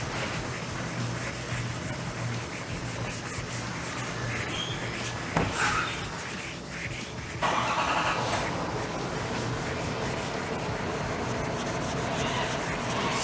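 Hand sanding of paint with 400 grit sandpaper on a Subaru STI body panel, a steady close scratchy rubbing that shifts in texture partway through.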